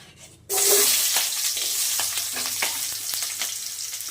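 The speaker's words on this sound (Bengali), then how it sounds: "দেখুন এবার আমি পেঁয়াজ কুচি দেব।" Chopped onion drops into hot mustard oil with a sudden loud sizzle, then keeps frying steadily, with scattered scrapes and clinks of stirring close by.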